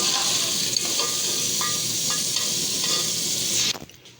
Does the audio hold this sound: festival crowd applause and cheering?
no